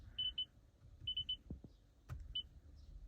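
Short electronic beeps from a Toyota Prius touchscreen, a few single and a quick triple, ring out clearly over a quiet background with faint low rumble and a couple of soft taps.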